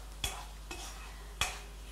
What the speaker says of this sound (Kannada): ಇದು ಚೆನ್ನಾಗಿ ಸ್ವಲ್ಪ ಈ ಬಾಣಲೆ ತಳ ಬಿಟ್ಟುಕೊಳ್ಳೋವರೆಗೆ ನಾವು ಇದನ್ನು ಕೆದಕ್ತಾ